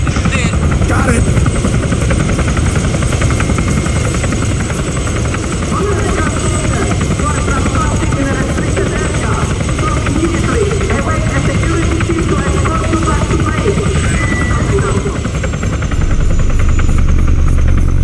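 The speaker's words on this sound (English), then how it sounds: "Please tell me you didn't just take down that helicopter." A helicopter's rotor thrums loudly and steadily throughout in a video game, a constant close whir with engine buzz, under game-style sound effects.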